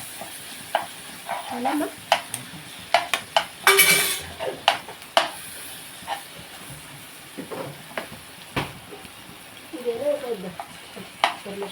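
Ginger garlic paste frying in a pan for egg fried rice: soft sizzling under scattered clinks and scrapes of a spoon stirring against the pan, with a brief louder clatter and occasional speech.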